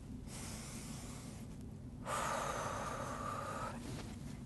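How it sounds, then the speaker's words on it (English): A patient breathes in deeply and then breathes out during a lung exam, two close, airy breath sounds with a short pause between them. "Take a deep breath."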